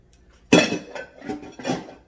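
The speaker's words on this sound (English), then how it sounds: "I'm gonna just mix everything around real nice and pretty." Spoon stirring shrimp in a metal pot for a dinner dish, producing three clanking scrapes against the pot, the first the loudest, close and alone without talk.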